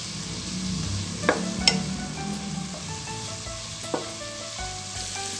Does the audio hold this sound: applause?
no